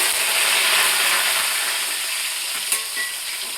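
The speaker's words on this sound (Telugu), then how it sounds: "నూనె కాగిన తర్వాత మనం తాలింపుకు రెడీ చేసి పెట్టుకుని అయితే వేసేసుకోవాలి" Spices temper in hot oil for a puffed-rice dish, a loud, continuous hissing sizzle that slowly eases off, with a single sharp utensil tap near the end and no talk.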